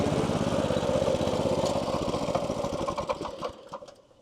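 A Yardmax YD8203 tracked wheelbarrow's small engine runs in second gear at mid-idle, a steady close chugging putter that slows and fades away at the end.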